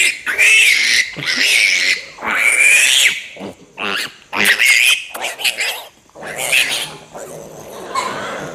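A farm piglet squeals loudly and repeatedly while held for teeth cutting, shrill high-pitched cries in rapid bursts, with a person talking over it.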